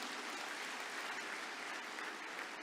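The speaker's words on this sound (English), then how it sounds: "Can we have an applause from the last part of the hall, please?" Applause from the back of a large conference hall at a business conclave, an even, continuous patter of many hands heard somewhat distant and fairly quiet, without speech.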